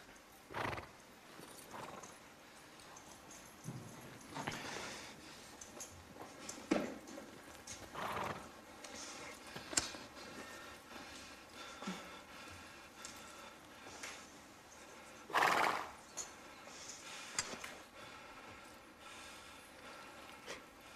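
A horse snorts and neighs loudly at close range while hooves clop and shuffle irregularly on the ground.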